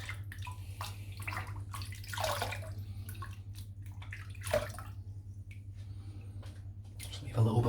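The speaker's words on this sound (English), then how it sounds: "I'm just going to rinse the bowl out," A shaving bowl is rinsed under running water from a tap, with splashing and rushing bursts over a steady low hum, plus small knocks and drips, close to the listener.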